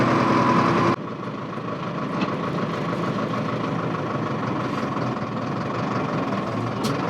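Tractor engine idling while carting second-crop bales, a steady close rumbling drone after a brief louder burst at the start, with no speech.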